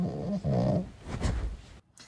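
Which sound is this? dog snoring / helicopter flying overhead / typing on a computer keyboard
dog snoring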